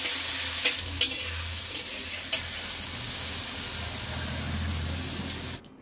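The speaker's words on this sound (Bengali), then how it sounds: "পেঁয়াজ, টমেটো আর কাঁচা কাঁচা লঙ্কা একটু হালকা লাল লাল করে ভেজে নেব।" Onion, tomato and green chilli fry in a pan with a steady close sizzle and hiss, broken by a few sharp spatters and stirring scrapes, before the sound cuts off abruptly at the end.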